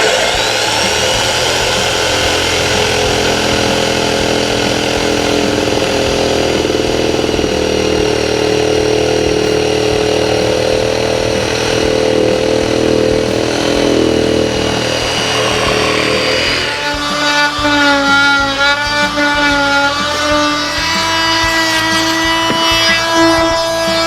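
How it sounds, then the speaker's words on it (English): A jigsaw plunge-cuts into a torsion box table saw top with no starter hole, a loud, continuous buzzing motor whine that drops in pitch and shifts partway through, close and alone. "Tilt your jigsaw at a pretty steep angle, start it up, and then just start plunging it in."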